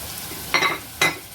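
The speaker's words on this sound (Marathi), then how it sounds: "छान हे सगळं परतून घ्यायचं" Tomato, curry leaves, cashews, chilli and carrot being stirred in a pan for millet khichdi, with two short scraping stirs over a faint, quiet sizzle.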